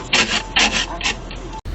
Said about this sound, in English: had to stop to scrape my windows, windshield and everything